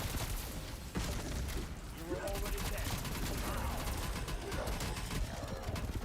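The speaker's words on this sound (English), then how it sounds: "this AK is shredding" Rapid AK rifle fire in Call of Duty Zombies runs as dense, continuous bursts throughout, with game noise behind it.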